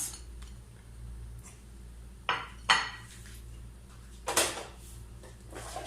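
Sliced onions tipped into a pot for beef tikka masala gravy, heard as a few brief clattering clinks and scrapes of utensils against the pot over a low steady hum, with no talking.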